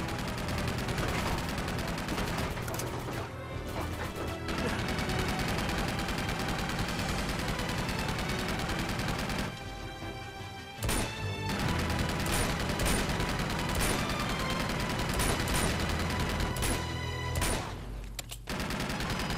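Sustained rapid gunfire fills a firefight in Uncharted 2 Among Thieves Remastered, set in Borneo, with dense overlapping bursts of automatic weapons and shots running almost continuously, broken by a couple of brief lulls.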